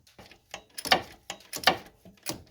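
A ratchet loosens a 14mm bolt under the alternator of a Hyundai/Kia 1.6 GDi (G4FD) engine. Short runs of quick metallic clicks repeat in a steady back-and-forth rhythm, close and alone.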